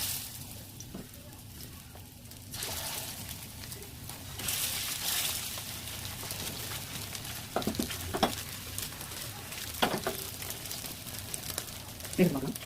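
Oil heating in a kadai pan for frying masala fish, a soft continuous sizzle building in intensity, with a few brief crackles and stirring sounds, fairly faint and close.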